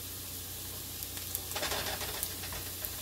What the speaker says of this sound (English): Give our eggs here a flip